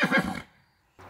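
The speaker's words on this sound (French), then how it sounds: "Le hennissement, émis bouche ouverte et entendu jusqu'à 1 km." A horse lets out a brief, open-mouthed whinny that fades quickly, followed by a short further sound, close and fairly loud with no speech.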